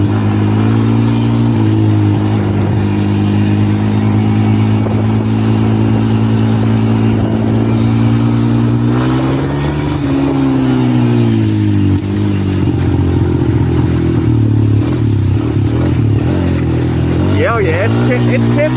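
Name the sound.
Honda TRX250EX ATV engine revving during a ride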